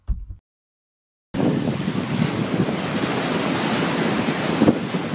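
After a brief bump and a second of silence, loud ocean surf and strong wind roar steadily at Miami Beach, Florida, with heavy wind buffeting on the microphone and no talking.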